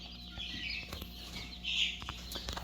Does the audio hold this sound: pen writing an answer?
no